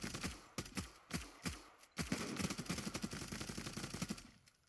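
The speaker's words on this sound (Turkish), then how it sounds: "Nereye sıkıyorum ben şu an hiç bilmiyorum" Gunfire in the first-person shooter Zula: several separate sharp shots spaced apart, then a denser burst of rapid fire that fades toward the end, close and loud with no talk.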